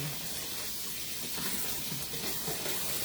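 Tap water runs steadily as vegetables are rinsed at a kitchen sink, a close, continuous hissing flow with no one speaking.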